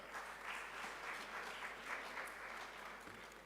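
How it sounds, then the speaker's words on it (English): Sustained applause from a ceremony audience at the closing of an African human rights moot court competition, a dense, even wash of clapping that sounds fairly distant and soft, with no voices. "A round of applause one more time for them."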